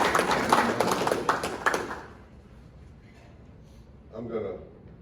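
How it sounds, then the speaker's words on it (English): An audience at a Rotary club meeting gives a brief round of applause, a loud burst of clapping that stops after about two seconds; a speaker's voice returns faintly afterward. "So give yourself a round of applause."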